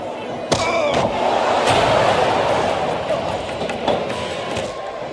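A spear impact in the WWE SmackDown vs. Raw 2007 video game lands as a sharp slam thud early on. A loud, roaring arena crowd follows and keeps going, with a couple of lighter thumps after it.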